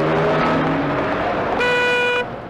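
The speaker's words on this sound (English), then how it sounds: "traffic." Road traffic with engines droning and a car horn blaring in a sustained honk near the end before the sound drops away, fairly close and loud.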